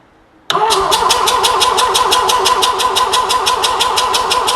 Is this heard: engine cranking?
yes